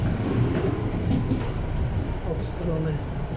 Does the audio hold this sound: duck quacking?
no